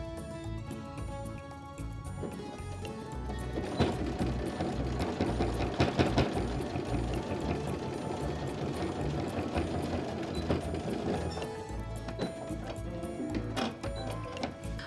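A sewing machine stitches an eighth-inch seam on a fabric bag, running steadily and close for most of the stretch with a fast mechanical rattle and hum. It slows slightly toward the end.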